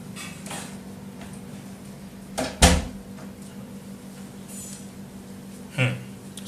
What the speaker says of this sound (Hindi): जरा दरवाजा खुला है